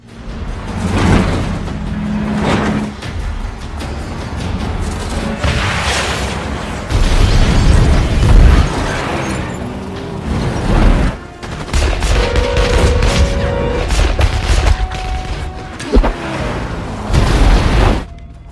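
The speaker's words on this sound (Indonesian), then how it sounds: "hingga terjadi baku hantam dan baku tembak serta ledakan" Loud bursts of gunfire and heavy booms of explosions in an action film fight scene rumble continuously, dense and chaotic with rapid shots layered over deep blasts.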